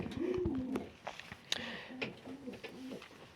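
Pigeons coo in repeated soft, throaty calls, several in a row, close by inside a pigeon loft, with small rustles and taps around them.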